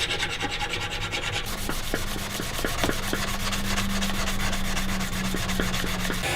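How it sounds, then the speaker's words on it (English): A steel machete tang, clamped to a flat block of wood, is smoothed and flattened with steady rasping strokes, a rapid, even, rhythmic scrape that stays loud and close throughout. "I'll try to smooth out and flatten the tang as best I can."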